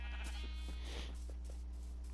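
A Minecraft sheep gives a short, faint bleat over a steady low background hum, with a few soft taps around it.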